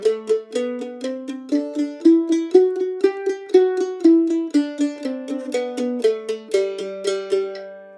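Mandolin picks a scale-like run in steady, even eighth notes, each bright plucked attack decaying quickly, close-miked with no talking.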